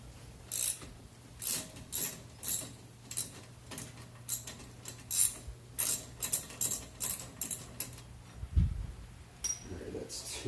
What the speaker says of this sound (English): Just giving these bolts some PB Blaster before I go ahead and start wrenching on